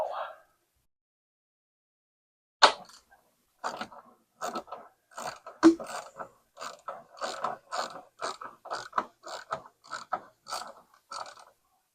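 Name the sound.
tightening the top shock absorber bolts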